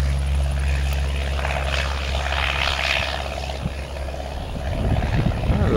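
Cessna 172 taking off in a crosswind at KMBO, its propeller engine a loud, steady drone that holds throughout and swells toward the end, with no talk.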